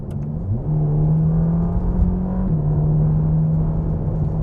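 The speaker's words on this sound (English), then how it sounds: "let's listen to that Ferrari engine" A Ferrari Roma (2024) sports car engine revs up in sport mode and holds a steady, loud mid-pitched drone, with a brief pitch jump partway through, close and continuous.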